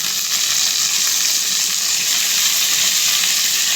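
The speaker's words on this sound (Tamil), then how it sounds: "வெங்காயம் நல்லா வதங்கிடுச்சு. தக்காளி போட்டுக்கலாம்." Onions and tomato sautéing in a pan for a dried-fish thokku, a steady, close, loud sizzle and fry hiss that runs unbroken throughout with no voices.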